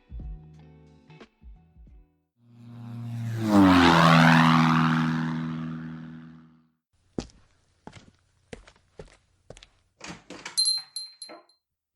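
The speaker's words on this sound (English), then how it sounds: "We're cleared for takeoff." A small propeller plane's engine swells to a loud roar and then fades away, with thumps and knocks before and after.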